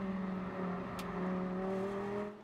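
Lamborghini Super Trofeo race cars braking into a corner at Silverstone, heard as a steady distant engine drone with tonal whine and a short sharp click midway, fading slightly at the end.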